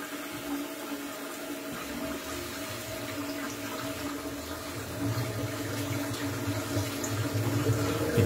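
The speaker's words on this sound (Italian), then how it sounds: "Acqua calda in ciotola, voglio l'acqua calda, ma bella calda." Hot water runs from a tap into a shaving bowl as a steady, hissing rush that slowly swells louder over several seconds, with no talking.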